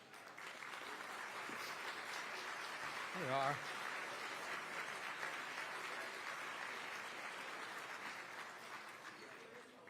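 Audience applause for young professionals at the Texas Public Policy Foundation policy summit, steady dense clapping that fills the whole stretch, with a brief spoken remark partway through.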